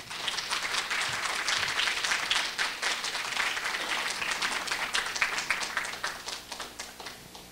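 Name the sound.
audience applause welcoming a lecturer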